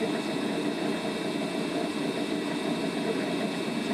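A motor-generator set hums steadily at minimum speed during a bench test of a Liebherr-Werk Biberach crane controller. The continuous, even mechanical drone stays close and constant, with no talk over it.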